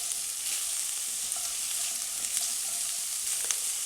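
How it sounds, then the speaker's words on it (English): Vegetables sizzle and fry steadily with bacon in a pan, a constant close crackle with occasional small pops and no talking. "And I'm gonna mix those in with the bacon. I'm gonna let those cook down a little bit."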